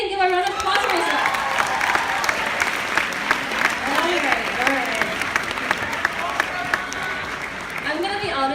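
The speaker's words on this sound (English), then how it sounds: "Give a round of applause for yourself." High school seniors applaud themselves after a group meditation, a dense, sustained round of clapping filling the room, with a voice and some singing-like tones faintly underneath.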